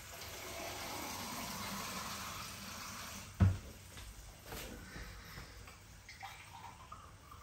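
Hot water pours into a pot while pilau is being cooked, a soft, steady stream, then a sharp knock midway followed by quieter trickles and small kitchen clatter.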